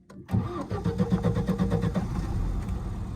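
A Lada Niva's engine catches after a brief silence, then runs with a throbbing, pulsing hum as the car eases off in first gear. It is close and moderately loud, with no voices.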